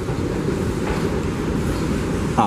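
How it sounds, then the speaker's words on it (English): Subway train arriving at the new South Ferry terminal station on its opening day, a steady low rumbling roar of rail cars with faint rattling and a brief squeal at the end, no voices. "There is a train approaching the station."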